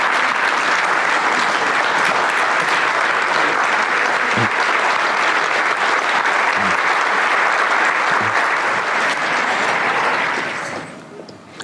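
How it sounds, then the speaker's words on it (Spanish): Loud, sustained standing applause from a large crowd at the opening of a national real estate congress in Cartagena, steady for about ten seconds before quickly dying away. "Les pido a todos, por favor, que me acompañen de pie con un muy fuerte aplauso."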